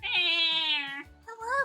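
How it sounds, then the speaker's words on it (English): A cat gives one long, clear, nasal meow close to the mic, then a shorter rising meow after a brief pause. "Kitty."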